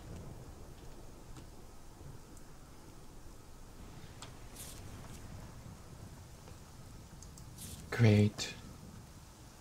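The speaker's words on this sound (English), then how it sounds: "and now it's raining." Steady rain hisses in Morrowind along the Bitter Coast, with a brief loud thump of thunder or impact near the end; someone says a word partway through.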